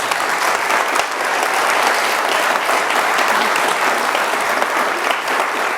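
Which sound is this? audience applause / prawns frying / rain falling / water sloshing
audience applause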